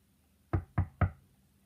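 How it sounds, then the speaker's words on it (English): Three evenly spaced knocks on a door, close and sharp against a quiet room, as part of a children's Easter bunny story about a skunk who wants to come back inside. "Knock, knock, knock."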